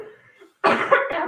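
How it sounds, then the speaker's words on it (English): One sharp, harsh cough bursts out close and loud after a quiet breathy moment, with no talking. "Get the cough out first."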